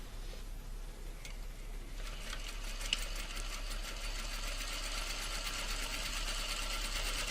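A sewing machine runs steadily along a straight seam, a continuous close whir with a fast rhythmic needle pulse picking up after a slower start, with no voices over it.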